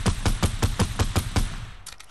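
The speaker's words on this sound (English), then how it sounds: "So I shoot the tree down." Rapid burst of about eight evenly spaced gunshots in Fortnite as a player fires to bring down a tree, loud and close, then a few fainter cracks trailing off.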